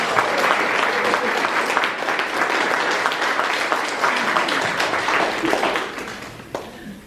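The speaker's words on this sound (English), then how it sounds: "Let's have another round of applause for each other." A women's club luncheon crowd honoring a family breaks into sustained applause, dense clapping that stays full before thinning slightly near the end, with faint voices beneath.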